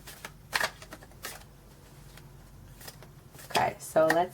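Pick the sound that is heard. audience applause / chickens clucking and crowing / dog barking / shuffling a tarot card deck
shuffling a tarot card deck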